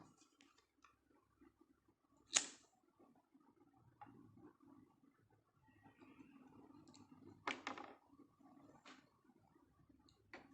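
A handheld lighter clicks a few times, sharp and quiet, with spaced single snaps and a brief burst in a hushed room during a demonstration with aluminium foil papers.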